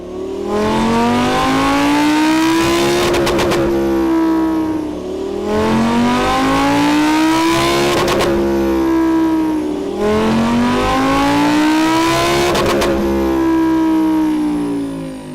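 A Lamborghini's 5.2-litre naturally aspirated V10, rear-wheel drive with a 7-speed automatic, revs hard on a dyno in three long rising pulls, each climbing to a howl and then dropping back, loud and close.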